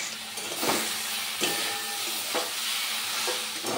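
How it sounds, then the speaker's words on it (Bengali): Spinach fries on a high flame with a constant loud sizzle, broken by a few stirring scrapes, and no voices. "পালং শাক ভাজতে গেলে বন্ধুরা হাই ফ্লেমেই ভাজতে হয়"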